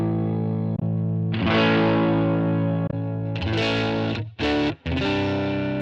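Electric guitar played through a Line 6 Helix amp and cabinet model with a 112 Open Cream cab, giving distorted sustained chords with a few choppy stops near the end, loud and alone.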